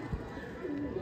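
Pigeons in a fancier's flock, some of them sick, give a short low coo close by over steady background noise, lasting only about a second.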